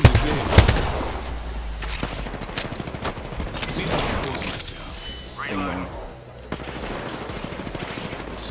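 Hip-fire gunfire in an Apex Legends ranked arena match, loud rapid bursts mixed with shots and impacts while a player talks excitedly over the action.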